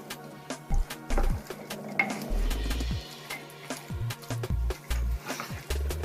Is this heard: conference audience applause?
no